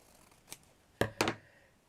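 Scissors snip through scarf fabric leaves in a craft project, three crisp isolated cuts close to the mic, the last two in quick succession, with quiet between them.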